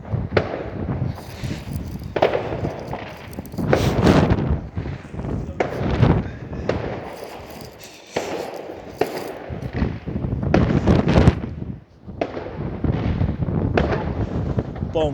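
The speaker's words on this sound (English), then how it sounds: "The fireworks." Fireworks bursting on New Year's Eve, a loud, dense volley of repeated booms and crackles in irregular clusters, some near and some further off, continuing throughout with brief lulls.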